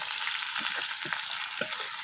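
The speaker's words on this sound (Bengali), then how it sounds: "এভাবে নাড়াচাড়া করে আলুগুলোকে আমি লাল লাল করে ভেজে নেব" Salted potatoes fry loudly in hot oil, a constant close sizzle broken by the scrape and clatter of a spatula stirring them in the pan.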